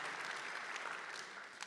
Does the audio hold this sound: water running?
no